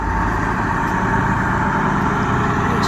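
A Leyland Atlantean bus with a big non-turbo 680 engine of about 11 litres turns at a bus museum site, giving a steady, loud, close diesel rumble with no breaks and no talk.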